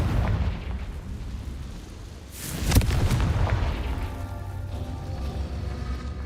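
A fiery Confringo spell explodes once in Hogwarts Legacy, a sudden loud blast with crackling debris that fades into a lingering rumble amid game ambience.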